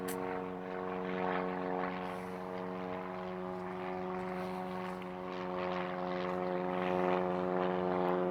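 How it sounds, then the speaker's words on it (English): A propeller airplane drones overhead above a cemetery in Eden Prairie, Minnesota, a steady, fairly loud engine hum that swells slightly toward the end and plays alone without talk. "Plane going over."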